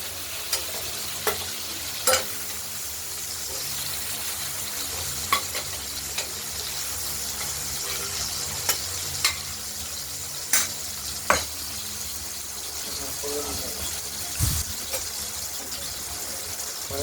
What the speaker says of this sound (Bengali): ঝিঙেগুলো ভাজা হতে থাকুক, একটু ভাজা ভাজা করে নেব